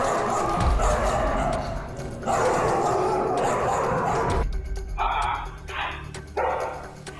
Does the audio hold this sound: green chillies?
no